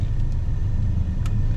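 A 1990 Volkswagen Cabriolet idles steadily after a cold start, a smooth low rumble with no rattling, close and continuous, with no one talking.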